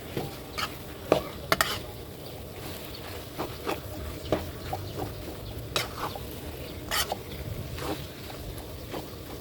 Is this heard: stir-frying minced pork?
yes